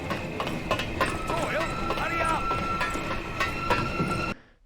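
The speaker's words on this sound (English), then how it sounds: "I love the sense of urgency I got from listening to the train close in" Steam-era train drawing nearer in Call of Duty (2003, United Offensive), a steady rumbling clatter with rhythmic clacking and a sustained whistle-like tone, loud and continuous before cutting off abruptly near the end.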